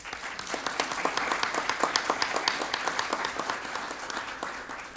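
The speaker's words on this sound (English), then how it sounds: "Applause to this city" Audience applause at a Harriet Tubman bicentennial birthday ceremony, honouring the host city, a steady crowd of clapping with a rhythmic pattern of prominent claps, holding at an even level.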